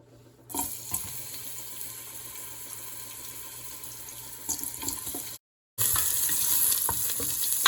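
Chopped onion frying in olive oil in a pan for a salmon broth, a steady hiss and crackle close by that starts after a moment, drops out briefly near the end, then returns louder.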